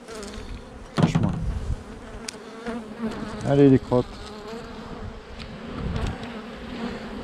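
Honeybees buzz densely and close during hands-on hive work, a constant droning swarm with a few knocks and a brief remark from a voice over it.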